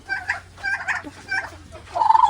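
A turkey gobbles in a few quick, rattling bursts while fighting with another bird, close and fairly loud, ending in a longer warbling gobble.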